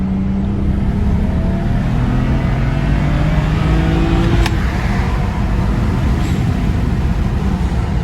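A BMW 335i accelerating hard from a 40 mph roll in rear-wheel drive, a loud, sustained engine drone with rising tone and heavy road and wind noise heard from inside the cabin.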